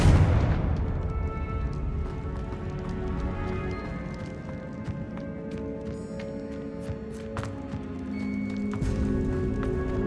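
A loud boom from the Confringo explosion spell in a Harry Potter video game, followed by a long, rumbling decay with scattered crackles and clatter.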